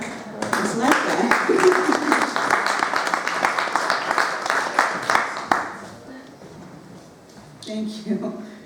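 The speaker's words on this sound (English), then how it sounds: "I'm not used to all this applause." Audience applause at a poetry evening, a dense burst of clapping that fades out after several seconds, with a voice briefly heard near the end.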